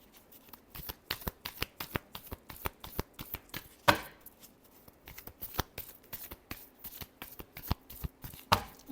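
Tarot cards being shuffled in steady rapid riffles and slaps, a dense run of crisp papery bursts with a couple of louder snaps, close and alone without talk.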